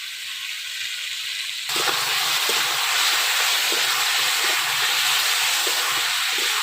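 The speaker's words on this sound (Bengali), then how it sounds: "এত টাইম লাগে পুল্লা ভাজতে, 10 থেকে 15 মিনিট করে ভাজা লাগবে।" Pulla hilsa fish frying over high heat with salt and turmeric in a village kitchen: a quiet start, then an abrupt, loud, steady sizzle and hiss that continues to the end.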